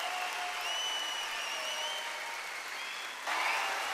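A crowd of home fans cheers and applauds inside an arena at a Ryukyu Golden Kings basketball game. The roar is loud and sustained, with whistles and shouts rising above the noise, and it swells near the end.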